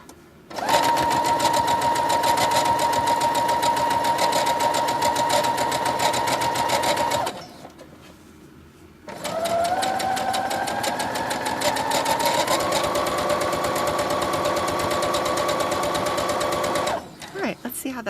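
A sewing machine runs a straight stitch along an infinity scarf, loud and close, in two long steady bursts separated by a short pause, with the motor whine rising slightly during the second run.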